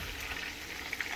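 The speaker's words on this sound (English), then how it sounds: "Meanwhile, the fish is frying in the pot." Fish frying in a pot, a brief, steady sizzle and bubbling crackle at moderate volume, with no voices.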